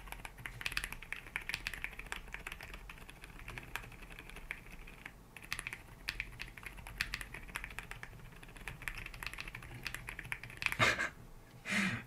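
Someone types realistically on a mechanical keyboard with silent switches, producing a soft, continuous patter of muted key presses with a few slightly louder taps near the end.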